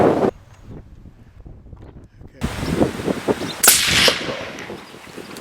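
A single loud rifle report from a .243 Win or .223 Rem, fired at a fallow deer during the roar in New Zealand, cracks out after soft wind-buffeted quiet and tails off in a broad rush, with faint talk around it.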